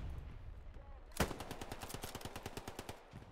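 Rifle fire in a forest shooter video game: one sharp, loud crack followed by a rapid rattling string of shots, fairly close and dry, fading out near the end.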